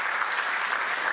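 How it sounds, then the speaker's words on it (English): A presentation audience at a scientific talk applauds with dense, steady clapping that holds evenly through the brief moment, heard at a moderate distance without voices over it. "Let's give him a round of applause."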